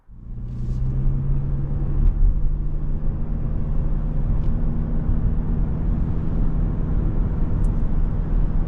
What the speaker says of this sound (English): we're out on the road with this RAV4 hybrid SE version here in the Cavalry Blue